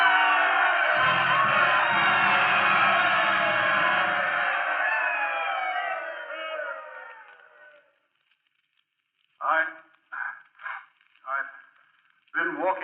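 Stadium crowd rising and cheering for Lou Gehrig in a radio drama, a broad roar that swells, holds and fades away over several seconds before a voice starts speaking in short phrases.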